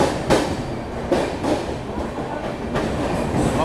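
Rajdhani Express passenger train rolls along the rails with a steady rumbling roar and periodic clickety-clack of wheels over rail joints, heard from inside the coach.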